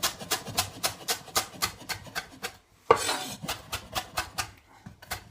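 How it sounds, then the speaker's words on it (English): A large butcher's knife chops through parsley on a board in a steady rapid rhythm of crisp, raspy strokes, close and clear, with a brief pause midway before the chopping resumes. "With your large butcher's knife, start the parsley off"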